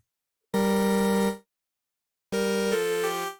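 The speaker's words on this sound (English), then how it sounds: "That's because what you're hearing is cancellation, phase cancellation." Two separate synth notes played in mono with phase cancellation, each a bright, buzzy sustained tone of about a second, divided by silence. The second note changes pitch partway through.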